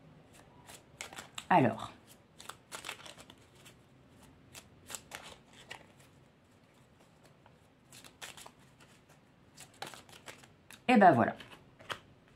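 Oracle cards being shuffled by hand in two short, loud riffling bursts, with quieter card handling and a voice talking in between.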